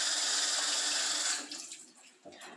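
Tap water runs steadily into a kitchen sink during handwashing before cooking, a loud broad rush that cuts off partway through, leaving quieter scattered drips and movement.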